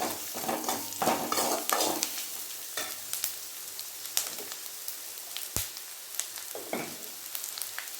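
Onions sautéing in oil in a pan for veg biryani, a soft crackling sizzle broken by bursts of stirring and scraping, fairly quiet and close.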